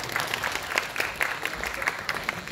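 Audience applause rises at a K-pop fan showcase, steady, moderately distant clapping running throughout while a voice speaks over it.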